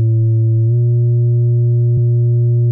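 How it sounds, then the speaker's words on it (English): A steady, low synth tone hums alone, smooth and close to a pure sine but slightly buzzier, with a brief click near the end. "You can see it's not quite a sine wave, it's a little bit sharper."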